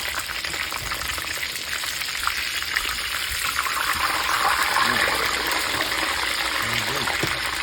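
Thick-cut pork chop katsu sizzles in hot oil just after being flipped, a steady bright crackle that swells a little louder partway through, with a few soft knocks underneath.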